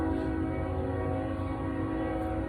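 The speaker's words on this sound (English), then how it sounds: "why does a train have to come? I hate living by the train tracks." A train passes near the tracks by a house garden, a steady loud rumbling drone with sustained horn-like tonal layers that holds without pause for the whole stretch.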